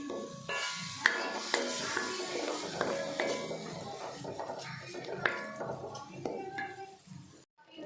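Garlic and ginger fry in a pan for a chicken gravy while a spoon stirs, with a steady sizzle and repeated metallic scrapes and clinks against the pan, close by.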